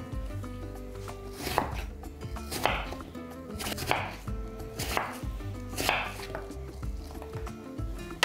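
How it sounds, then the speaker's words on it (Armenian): A knife chops food into cubes on a cutting board, a steady series of sharp, close thuds and knocks repeating every second or so with no voices. "կտրատում ենք խորանարդիկների"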